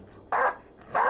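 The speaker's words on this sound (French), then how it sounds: "Je sais que c'est lui qui aboie, là." A dog gives two short, fairly loud barks, separated by a brief pause against a quiet background.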